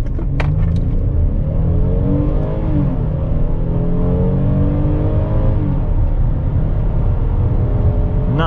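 Hyundai Palisade XRT SUV accelerating hard in sport mode from a standstill to 60 mph, heard from inside the cabin as a steady engine roar with rising, shifting tones that climb, drop at gear changes and climb again.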